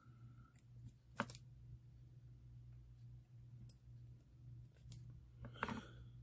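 Scissors trim thread while a size 14 Yellow Hammer fishing fly is tied, giving a few quiet snips and clicks over a steady low hum, with a sharper cluster of cuts near the end.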